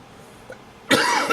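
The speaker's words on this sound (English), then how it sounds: "Sorry about the coughing." A single close cough bursts out after a faint throat sound, one short harsh burst with a little tail, heard alone without talk.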